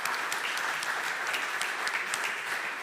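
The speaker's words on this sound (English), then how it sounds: "big applause for you" Audience applause for a startup pitch at an AI demo day, steady dense clapping filling the room for about three seconds with no voices.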